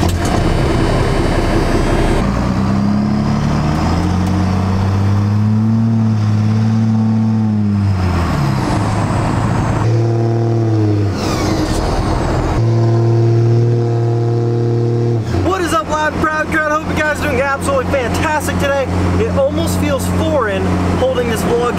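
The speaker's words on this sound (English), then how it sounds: "So let's get this truck started up." A large Cummins turbo diesel truck engine cranks and catches, its low rumble rising and falling as it revs, then settles into a steady idle with some speech nearby.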